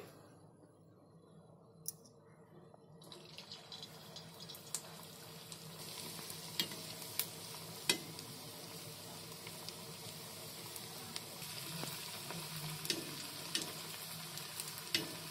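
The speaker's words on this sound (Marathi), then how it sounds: "तेल तापलंय, आता मी त्याच्यामध्ये आहे ना हे फ्राय करून घेते" Aloo paneer kofta balls frying in hot oil, with a steady low crackle and sizzle that builds over time, punctuated by occasional sharper pops and clicks.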